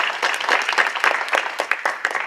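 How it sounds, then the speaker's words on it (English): A summit audience applauds steadily, dense clapping from many hands filling the space at a fairly loud, even level with no talk over it. "Let's give him another round of applause"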